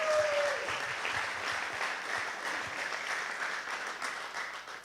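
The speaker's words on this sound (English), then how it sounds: "So a huge round of applause for the city of San Antonio and its patrons." Sustained applause from a large crowd at a boxing event in San Antonio, steady and dense throughout with a faint tone at the start.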